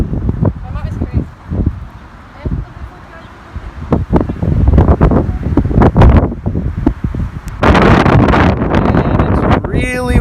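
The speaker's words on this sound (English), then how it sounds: "it's really windy up here." Strong wind buffets the microphone on a mountain hike, roaring in uneven gusts, surging loudly in places and easing in others, with occasional voices mixed in.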